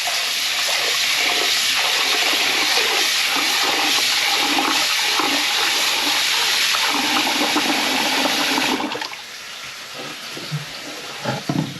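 Cold tap water gushes steadily and loudly into a sink, splashing as pasta is rinsed beneath it, then the flow is cut off, leaving brief drips and clatter.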